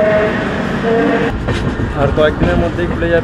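The 12073 Howrah–Bhubaneswar Jan Shatabdi Express running, a continuous rumble and clatter of the moving train heard from on board, steady and fairly loud beneath someone talking.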